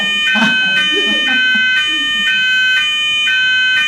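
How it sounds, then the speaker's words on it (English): A fire alarm sounds at an indoor child poverty conference, a loud repeating electronic tone pulsing in regular bursts, with people talking underneath. "just a fire alarm, is it?"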